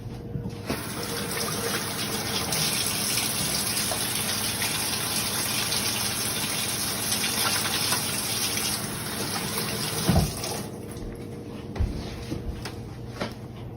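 Water runs steadily from a tap for hand washing, a loud continuous gush that stops near the end, followed by a few clatters.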